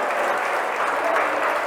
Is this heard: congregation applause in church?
yes